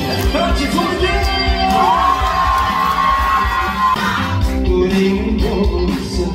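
A concert audience cheers, whoops and shrieks for the singer, a dense, loud crowd roar that swells and keeps going the whole time, with high shouts standing out.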